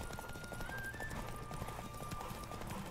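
A horse in The Witcher 3 gallops with rapid, steady clip-clop hoofbeats under a busy game soundscape, a thin sustained tone running through the background.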